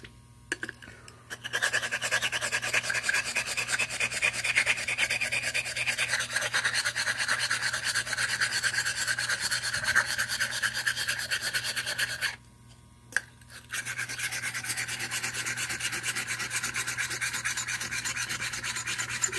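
A Gold Dollar 208 straight razor draws steady half-length bevel-setting strokes across a sharpening stone, making a close, continuous raspy rubbing with one brief pause midway.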